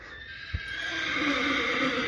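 A full white horse, readied for a village mela, lets out a loud whinny that rises and holds close by, following a single hoof knock.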